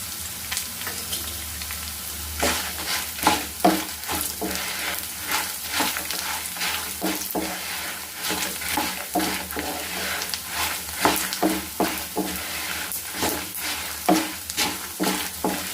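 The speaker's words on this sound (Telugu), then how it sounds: "ఇప్పుడు జీలకర్ర కూడా వేసేద్దాం." Cumin seeds roast in a dry pan for curry leaf powder, giving a soft continuous crackle and sizzle broken by frequent scraping stirs, close and fairly quiet.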